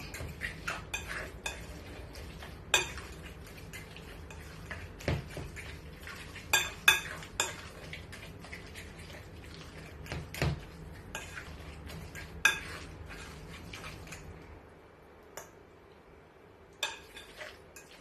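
A fish guacamole mixed with salt, paprika and coriander is stirred in a bowl, a spoon clinking and scraping against the dish in irregular taps, close and fairly quiet, going silent near the end.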